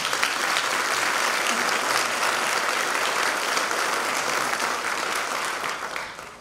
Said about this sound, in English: please join me in a round of applause for these great organizations and the presenters here tonight